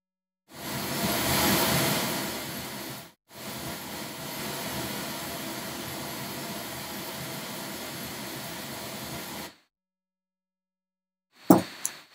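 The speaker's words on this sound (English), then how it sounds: "So let me start the generator again and I'll start turning up the noise." Broadband test noise from a signal generator plays in a room as a loud, steady hiss-like roar. It starts, breaks briefly, resumes at a slightly lower level, then stops into silence before a few short knocks.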